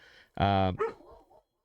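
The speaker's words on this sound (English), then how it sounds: "I got dogs making noise." A dog gives one loud, close bark followed by a shorter, softer yelp, with a faint whine trailing off after.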